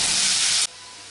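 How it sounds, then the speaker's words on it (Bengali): Chopped large onion frying in hot oil for an aloo broccoli curry, a loud, close hissing sizzle that cuts off abruptly to a much quieter background. "পেঁয়াজটা একটু লাল লাল করে ভেজে নেব।"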